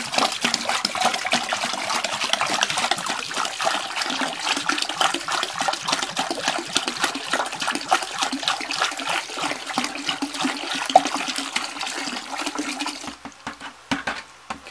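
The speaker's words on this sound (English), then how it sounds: "So I'm going to dump in. This is my compost liquid that I got from my compost pile." Compost liquid from a backyard compost pile is poured into a 5-gallon bucket of water, making a steady, close splashing rush that lasts about thirteen seconds before tapering off.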